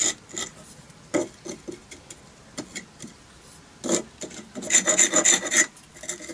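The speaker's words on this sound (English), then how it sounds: "With this tool, the bricks are scraped, because normally they are dirty and thus they are cleaner." A hand tool scrapes old mortar off bricks while an elliptical brick arch is being built, giving irregular rasping strokes, some isolated and some in quick bursts, with a busier, denser scraping run near the end; no voices.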